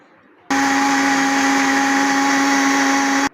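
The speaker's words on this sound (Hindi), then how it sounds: "अब हम इसको ब्लेंडर में डाल के तो ब्लेंड कर लेंगे" After a brief quiet moment, a blender blending kulfi mixture whirs loudly at a constant high-pitched speed for about three seconds, then cuts off abruptly.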